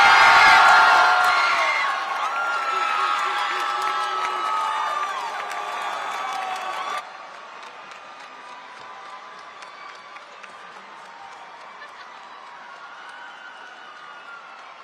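Applause and cheering from a large graduation crowd at a high school ceremony, loud and dense at first with whoops, then easing into a thinner, steady clapping.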